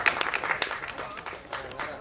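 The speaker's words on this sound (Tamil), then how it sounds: "தயவுசெய்து நீங்களே கைத்தட்டல்." Applause from an audience at a Tamil stage event, brisk clapping in short bursts that swells and dips over two seconds, fairly close and loud.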